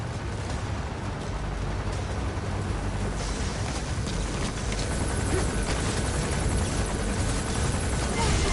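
Helicopter in the video game Metal Gear Solid V, a loud, continuous rotor roar and engine drone with rumbling low end that holds steady throughout and swells slightly toward the end.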